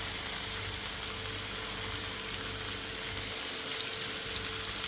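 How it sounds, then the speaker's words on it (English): Shrimp fry in a big skillet for a hibachi-style dinner, giving off a steady, dense sizzle and crackle. It sounds close and constant, with no talking. "I'm gonna add my shrimp, and I'm not gonna allow my shrimp to fry long"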